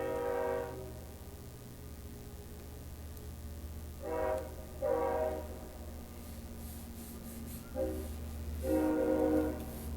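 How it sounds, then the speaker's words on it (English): A passing train sounds its horn in several separate blasts, moderately distant, over a steady low rumble of rail traffic. "I apologize if you guys could hear the train."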